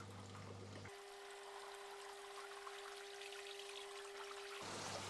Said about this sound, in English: a lot more water coming down through the return line and a lot more water spilling over this baffle